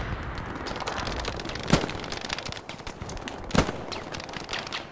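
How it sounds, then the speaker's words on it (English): Machine guns fire in a nighttime Hell Let Loose match at Foy, a steady distant rattle of automatic fire with two sharper, louder cracks standing out above it. "You can see the MGs already shooting right there."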